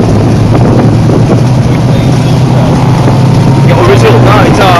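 A powerboat with a 383 Chevy engine runs loud and close at a Brisbane powerboat event, its rumbling motor constant under wind buffeting on the microphone, with voices faintly audible.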